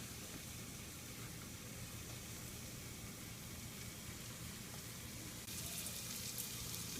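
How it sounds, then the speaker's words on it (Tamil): Ginger and garlic sauté in a pan for Erode Pallipalayam chicken, giving a soft, continuous sizzling hiss that stays even and fairly faint, then grows slightly brighter and louder near the end. "இஞ்சி பூண்டை போட்டு நல்லா வணக்கிக்கலாம்"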